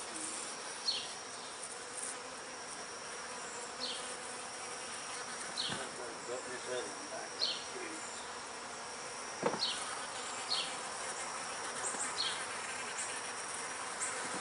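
Robber bees buzz steadily around an open beehive, a dense close insect hum with individual bees droning past now and then, plus a couple of faint clicks.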